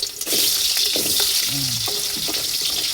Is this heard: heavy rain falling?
no